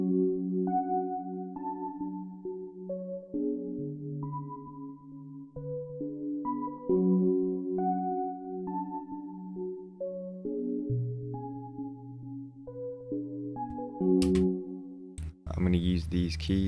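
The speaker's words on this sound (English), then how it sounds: "I've gone with this MIDI from MLB's Jurassic MIDI kit." Synth keys from a Jurassic MIDI kit play a melody in FL Studio at about 135 BPM. The stepping, sustained notes sound steady and clear on their own, then end in a short burst of a different, noisier sound.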